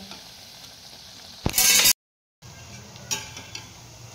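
Chakli dough spirals dropped into hot oil for Navratri fasting chakli, giving a bright crackling sizzle that swells loudly for a moment, cuts out briefly, then settles into a steady, softer bubbling fry with a few faint clinks.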